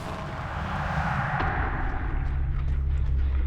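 A generator blowing up in the horror game Dead by Daylight, a sudden dull boom that swells into a sustained rumbling roar with faint crackles over a low hum.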